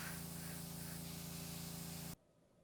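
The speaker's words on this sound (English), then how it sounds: "hit it with red, I believe here, working at a 90-degree angle to the cookie to prevent underspray" An airbrush spraying red food color through a stencil onto a cookie, a steady continuous hiss lasting about two seconds before cutting off abruptly into near silence.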